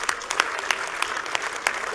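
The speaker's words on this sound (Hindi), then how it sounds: "एक बार इनके लिए जोरदार तालियां बजा।" A crowd at a Jananayak Janata Party rally in Julana applauds loudly, dense sustained clapping with sharp individual claps standing out, continuing steadily throughout.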